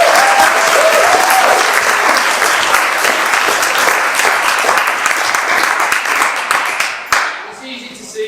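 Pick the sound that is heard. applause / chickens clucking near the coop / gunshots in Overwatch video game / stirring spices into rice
applause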